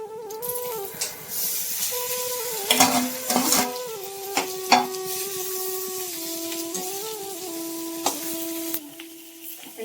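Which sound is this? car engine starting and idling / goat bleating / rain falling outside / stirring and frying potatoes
stirring and frying potatoes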